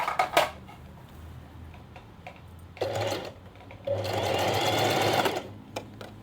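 A sewing machine stitches a lined summer top, running in short bursts and then a longer steady whir near the end, with light clicks and handling between runs.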